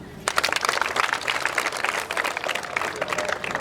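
A crowd bursts into loud, dense applause and cheering that holds steady for a few seconds, indoors and close.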